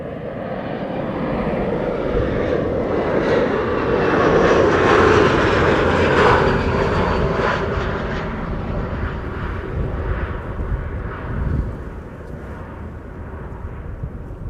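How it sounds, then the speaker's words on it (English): A KLM Embraer 175 airliner landing at Amsterdam Schiphol, with a loud roar of jet engines and airflow that swells as it passes close by. The roar then eases into a steady, fading rumble on the runway. "This is KLM flight 1164. It is an Embraer 175 arriving from Bergen."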